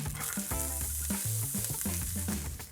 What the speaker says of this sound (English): the saute pan goes back on the heat and in with our onions